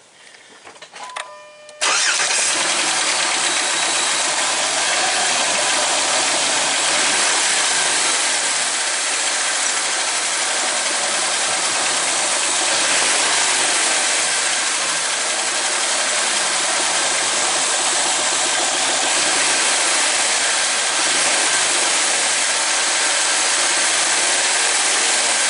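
A 2007 Jeep Wrangler, whose vehicle shakes hard under acceleration, cranks briefly and fires up, then holds a loud, steady engine roar with revving that continues for the rest of the clip, with no talking.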